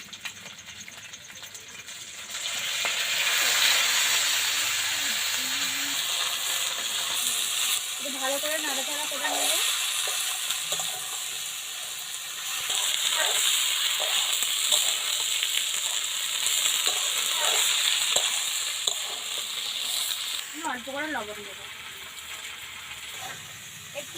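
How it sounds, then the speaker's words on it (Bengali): Water spinach greens fry in a wok for a thin Saipon fish curry, a loud sustained sizzle that swells and eases over stretches, with scraping stirs and a person's voice talking under it at times. "কলমি শাকগুলো সব দিয়ে দেবো কড়ার মধ্যে"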